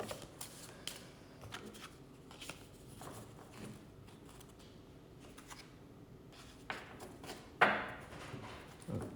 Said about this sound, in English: just one more shuffle